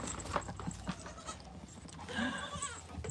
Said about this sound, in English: the flying goat of the farm